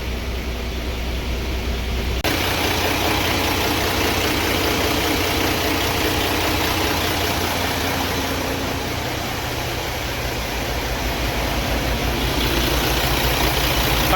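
A Freightliner truck diesel idles right after start-up, loud and close, with a sharp change in tone in the first seconds before it settles into a steady, even rumble.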